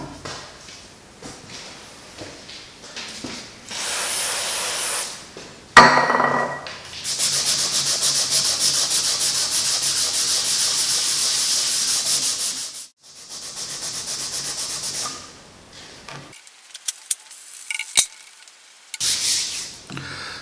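A Scotch-Brite pad with rust remover scrubs a rusty cast iron table saw top in steady, loud, abrasive rubbing strokes, broken by a few short pauses and some sharp knocks near the end.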